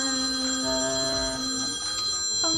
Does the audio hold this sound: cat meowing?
no